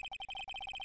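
A cell phone ringtone from the Phoenix Wright video game trills in rapid, evenly pulsed electronic beeps, about a dozen quick tones, clear and alone before cutting off.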